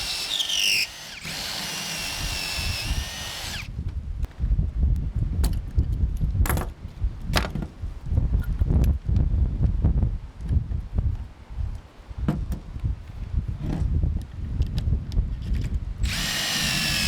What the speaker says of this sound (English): now I'm going to drill the pocket holes, or the holes for the pocket screws.